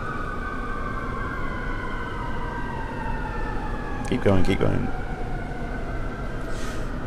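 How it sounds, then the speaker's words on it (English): An emergency vehicle siren passes along a street, its wailing tones sweeping steadily under heavy ambient noise while a person speaks briefly. "Okay, I'm waiting for the siren to go by."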